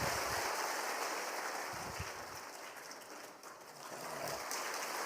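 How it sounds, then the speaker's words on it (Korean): Church congregation applauding in welcome at a Sunday worship service, a faint, steady wash of clapping that dips briefly midway, with no talk over it. "우리 뜨거운 박수로 환영하겠습니다"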